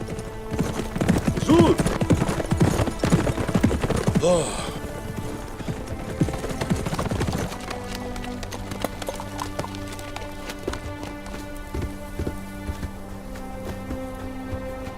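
Horses gallop hard with rapid, loud clip-clop hoofbeats in the first half, then the scene settles into softer, scattered sounds with layered background music and voices.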